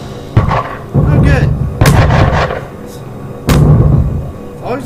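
Tank cannon fire in the Armored Warfare video game, aimed at friendly troops: three loud, heavy booming shots spaced a second or more apart, each with a rumbling tail, while voices talk over the action.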